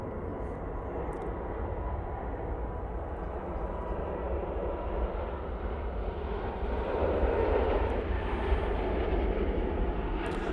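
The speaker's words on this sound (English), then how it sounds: "Air France A320 now going back off to Paris Charles de Gaulle Airport." An Air France Airbus A320 jet takes off from Manchester Airport, a steady, broad engine roar heard from a distance that swells slightly toward the end and runs throughout with no talking.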